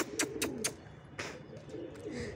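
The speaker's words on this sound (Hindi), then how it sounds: "ये रहा कबूतर" A pigeon on a house roof coos in low murmurs, broken by a few sharp flutter-like bursts near the start, close and fairly quiet.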